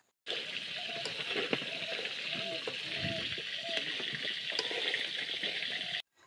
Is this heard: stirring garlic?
yes